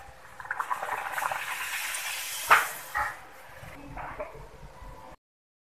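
Luchi deep-fry in hot oil with a steady, soft, bubbling sizzle, broken by a couple of light clinks before the sound quietens and stops.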